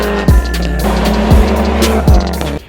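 A Mazdaspeed3 fitted with an aftermarket downpipe idles loudly up close, its deep exhaust rumble punctuated by three sharp throttle blips that rise and quickly fall back.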